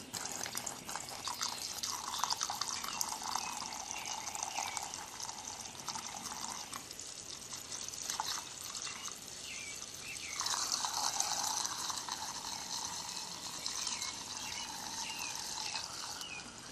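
Gasoline is poured from a one-quart container into the tank of a portable generator, giving a faint, continuous trickling and splashing liquid sound that varies as the flow changes, with no talking.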